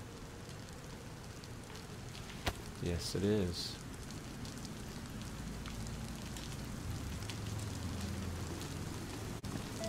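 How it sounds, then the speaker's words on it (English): Rain in a survival video game patters steadily as a soft, constant wash, with a brief spoken voice and a few clicks over it. "It might be starting to rain."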